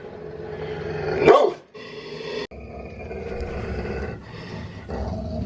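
A dog barks and growls loudly at close range, a sharp aggressive outburst followed by continuing low snarling and rumbling.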